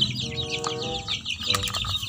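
Chickens cluck close by in quick, overlapping calls, with a few higher squawks.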